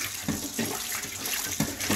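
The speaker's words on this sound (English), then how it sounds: "I gotta wash my pot first." Water splashes and sloshes while a cooking pot is washed before preparing Nigerian food, several quick close splashes in a loud, busy run with no talking.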